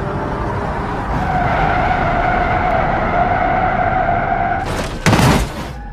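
A cartoon car brakes hard, its tires skidding in a long sustained screech at full loudness, then two short sharp thumps and bursts close together near the end.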